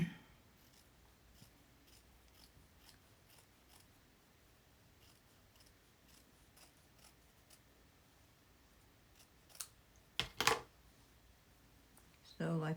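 Scissors snip through fabric and embroidery thread for a slow-stitch piece, a few close crisp cuts late in the stretch after a long quiet lull with faint rustling.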